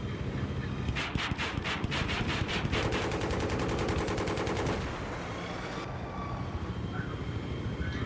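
Automatic weapon fire in Battlefield 3, rapid rattling bursts of shots in quick succession, fairly loud, followed by a sustained stretch of continuous firing before it cuts off into quieter background ambience.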